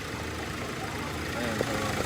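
A Hyundai Accent's engine idles quietly after maintenance, giving a steady, low, smooth hum that stays even at close range, with a faint murmur of background activity.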